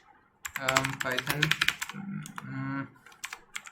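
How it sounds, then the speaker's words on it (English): Rapid, uneven keystrokes clatter on a computer keyboard at close range, in short bursts mixed with a man's speech. "I'm messing up my typing here"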